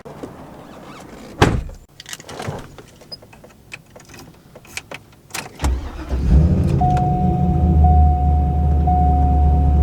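Getting into a Chevrolet Corvette Z06: a few loud door thunks and interior handling clicks, then a steady engine idle hum with a faint electronic tone near the end, close and without talk.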